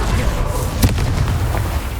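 A Confringo fire spell bursts in the Hogwarts Legacy video game, one sharp boom near the middle of the clip over a steady rumbling game soundscape.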